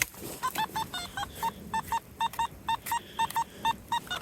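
A metal detector sweeping for silver coins and relics gives off a steady run of short, bright electronic beeps, mostly in quick pairs at an even rhythm, clear and close with no talking.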